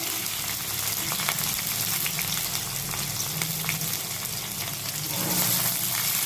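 Sliced onions and green chillies sizzle steadily in oil in a home kitchen pan, a constant, close crackling hiss with faint stirring and no talk.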